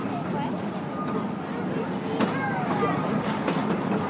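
Moving Christmas sing-along train on the Frisco Silver Dollar Line, a steady rumbling ride with faint clacks and hiss running throughout while someone talks over it.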